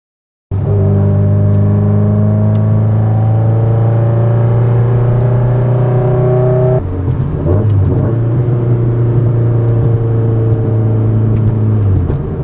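A tuned 2004 Subaru STi with an MM500 package runs steadily at a loud, close idle with strong low humming tones, the pitch shifting slightly partway through, with no one speaking.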